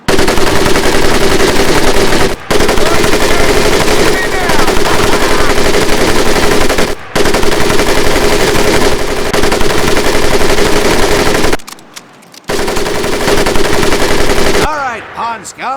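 A machine gun fires in the Pacific-war shooter Medal of Honor Pacific Assault, set during an attack on a naval base, as loud, dense continuous bursts broken by a few short gaps, with no talking.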